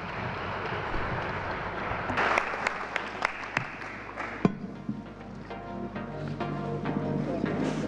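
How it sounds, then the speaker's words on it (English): Conference audience at an IPv6 panel applauds the panelists, scattered claps with a few sharp, louder hits rising over a room hum, then thinning out as faint talk and noise continue. "a round of applause for the panelists"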